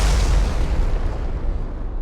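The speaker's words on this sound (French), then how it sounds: "On peut également se servir d'une explosion." A loud, dense explosion rolls across a film scene, throwing up fire, earth and rubble. It is a single sustained blast with heavy low rumble that fades slowly over two seconds, and no voices are heard.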